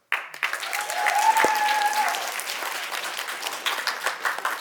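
A conference audience breaks into applause in a hall, a dense, steady clatter of many hands that swells quickly and holds at moderate level, with a brief tonal whistle-like ring near the start.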